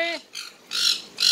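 A parakeet squawks in a cage, giving four short, harsh bursts with brief pauses between them, loud and close.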